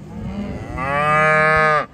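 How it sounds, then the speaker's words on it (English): A single long, loud cow moo in a pasture, rising into a sustained bellow before cutting off, with some low farm noise underneath. "Here come the cows."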